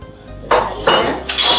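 Dishes clattering into a kitchen sink, three distinct clanking impacts of pots and crockery close by, each ringing briefly before the next.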